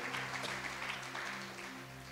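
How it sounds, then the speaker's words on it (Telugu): Loud, steady clapping from a church congregation praising God, a continuous dense patter of many hands that holds evenly throughout without a break. "గట్టిగా చప్పట్లు కొడుతూ ప్రభు నామని మహిమ పరుద్దాం"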